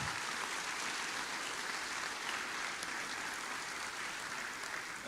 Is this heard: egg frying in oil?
no